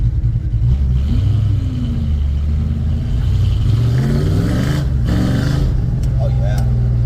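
A Ford F100's engine rumbles and revs after carburetor tuning and a power plate install, the pitch climbing with each throttle blip while a voice talks over the steady idle.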